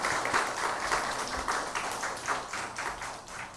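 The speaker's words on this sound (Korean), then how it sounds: "우리 격려의 박수 한번 해주실까요?" A church congregation gives a round of encouraging applause at a Sunday service, steady rhythmic clapping from many hands at moderate, somewhat distant level throughout.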